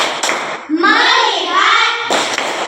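Children in an Indonesian classroom doing a rhythmic focus clap, a few sharp claps at the start and end framing a stretch of children's voices chanting together in unison.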